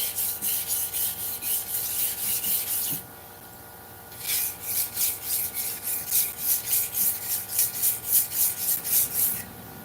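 A sashimi knife blade is rubbed back and forth against a sharpening surface in steady rhythmic rasping strokes, close and fairly loud, with a short pause partway before the strokes resume.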